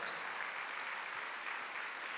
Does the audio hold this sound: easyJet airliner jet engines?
no